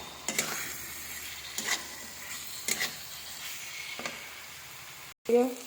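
Fried potatoes are sautéed in a pan for a sour eggplant and amra dish, a soft sizzle punctuated by about five spaced spatula scrapes, then a brief cut and a short voiced sound at the end.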